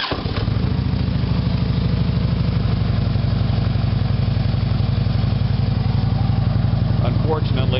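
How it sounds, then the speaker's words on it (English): A Harley motorcycle engine starts and settles into a loud, steady, loping idle with a thumping low rumble throughout, heard close up. "I'll start the bike"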